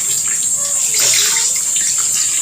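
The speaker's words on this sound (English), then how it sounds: "Let us now add some water." Water is poured into a cooking pot of pork bistek simmering with calamansi and soy sauce, making a loud, continuous rushing splash that holds steady for the whole moment.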